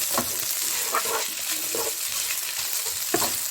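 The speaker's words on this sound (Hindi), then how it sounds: "इसके अंदर हम भून लेंगे। साथ में हमने इसके ऑनियन डाल देना।" Onions fry in a pan for chicken cutlets, giving a steady close sizzle with bursts of crackling as they are stirred, no voices.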